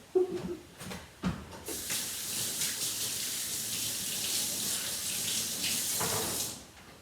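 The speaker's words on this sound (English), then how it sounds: "I'm going to give my hands a rinse." Running water from a kitchen tap as hands are rinsed at the sink, a steady hissing stream lasting several seconds after a few brief knocks and splashes, fairly close, with no talking.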